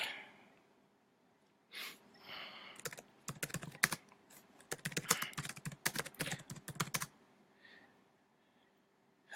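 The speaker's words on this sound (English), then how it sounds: "let me type this question" Close, clattering keystrokes come from a computer keyboard in quick irregular bursts, with short pauses between them, and soft breaths and a snort appear near the start and at the end.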